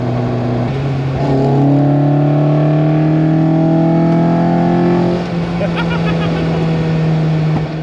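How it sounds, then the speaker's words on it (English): A loud Toyota AE86 engine with individual throttle bodies revs hard at full throttle on a mountain road rally, its pitch climbing steadily through the gears, then easing before pulling again, close and continuous. "Those ITBs sound so good at wide open throttle."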